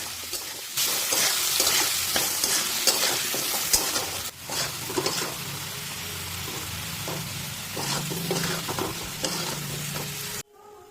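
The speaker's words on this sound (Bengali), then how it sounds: "এই দেখুন আলুটাও কিন্তু খুব তাড়াতাড়ি ভাজা হয়ে যায়" Potato pieces frying in hot oil with salt and turmeric, a steady close sizzle with occasional stirring scrapes, no voices, ending abruptly near the close.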